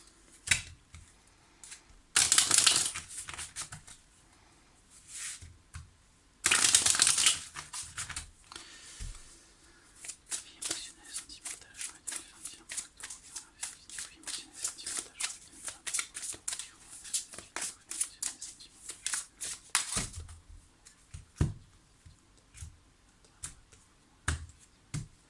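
Tarot cards are shuffled by hand, giving bursts of riffling and soft rapid card slaps and taps, close and fairly quiet, with no talking.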